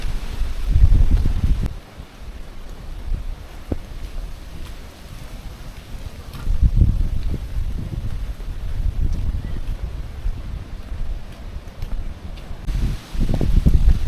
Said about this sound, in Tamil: காற்று அடிக்கிற காற்று சூப்பராக இருக்குங்க வெயிலுக்கு.